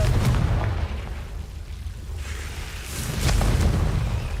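Blasting fire spell bursts in a Harry Potter video game, deep booming explosions with low rumble, one heavy burst at the start and another around the three-second mark, loud and close.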